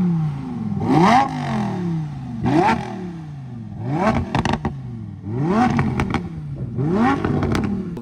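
A Lamborghini Huracan Tecnica V10 engine revs repeatedly, five sharp blips rising and falling in pitch about every one to one and a half seconds, loud and close with crackles between revs.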